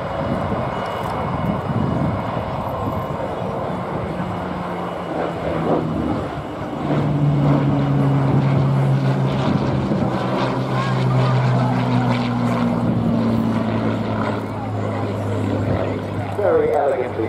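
At an air show flying display, a propeller aircraft drones overhead with a rising and falling engine tone that grows louder midway, heard from the crowd with an announcer talking over it.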